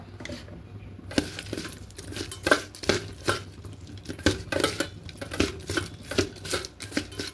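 Prawns being mixed by hand with salt and a little turmeric in a bowl, producing irregular wet squelches, soft rattles and faint clinks in quick repeated bursts, close and moderately loud.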